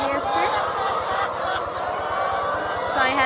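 Roughly six thousand laying hens in a poultry shed keep up a dense, loud mass of overlapping honking calls above a steady low mechanical throb.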